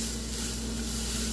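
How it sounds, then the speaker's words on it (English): Onions sautéing in a pan as they are stirred around, a short, continuous sizzle under a low steady hum, with no voices. "we're just gonna move our onions around a little bit until they start to wilt"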